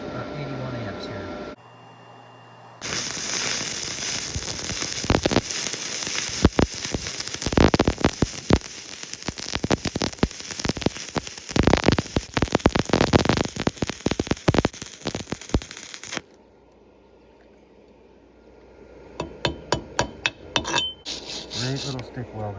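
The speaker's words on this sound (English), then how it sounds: "I'm going to switch it to stick mode. And stick. I'll try it about 81 amps here." Stick welding at 81 amps with a small Sefaspe 135A welder: a loud, continuous crackling rasp runs for about thirteen seconds after a brief click, then stops, leaving quieter scattered taps and knocks.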